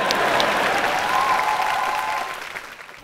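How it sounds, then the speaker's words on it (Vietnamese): A studio audience at a Vietnamese TV show breaks into loud, dense applause that swells and then trails off over a few seconds. "Vỗ tay."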